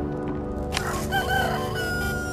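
A rooster crows once in the video game Poppy Playtime, a clear rising and falling call over a steady hum of game ambience, with no talking over it.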